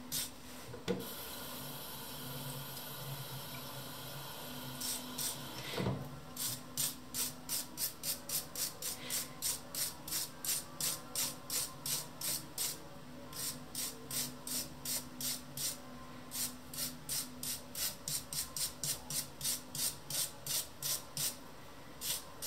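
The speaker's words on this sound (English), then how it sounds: "I clean the metal with a brass wire brush because it is hard enough to clean off the rust" A brass wire brush scrubs rust off the metal of an antique moulding plane, with a few scattered rubs giving way to a long run of quick, even back-and-forth strokes, close and fairly quiet.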